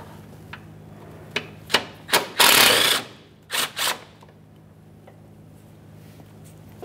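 Ratchet working 10mm bolts loose from the cooling fan assembly of a 1994-1997 Honda Accord 2.2L L4: a few short separate clicks and scrapes, then a longer loud rasping burst and two more quick bursts, close up with no talk.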